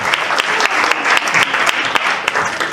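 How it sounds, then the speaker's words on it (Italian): Sustained audience applause at an indigenous artists' music show, dense and steady clapping filling the room without pause, loud and close throughout. "fatevi un applauso perché è sempre bello vedere uno spazio pieno"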